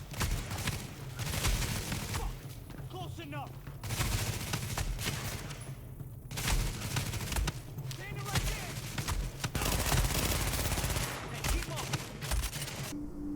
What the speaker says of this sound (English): I'm going to go ahead and let these guys just fire on me.